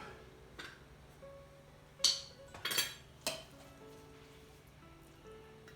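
Chicken a la king is served from a pot on a gas hob, with a few quiet metallic clinks and scrapes of a spoon against the pot spread over several seconds in a faint background.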